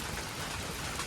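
Steady rain pours down, a dense continuous hiss of drops with no voices.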